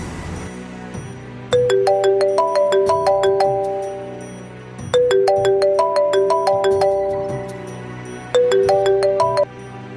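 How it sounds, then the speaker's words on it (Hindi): An incoming call sets off a phone ringtone in a drama scene, a bright, melodic tone phrase repeating three times with short gaps, clear and close with no talk over it. "रमीज़ की कॉल आ रही है"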